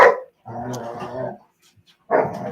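Dogs bark outdoors in loud, close bursts: one short bark, then a sustained run of barking and growling, a pause, and another burst. No one speaks.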